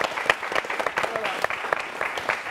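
Audience applauding at a French talk event, a dense burst of close, steady clapping throughout, with a voice coming through faintly underneath.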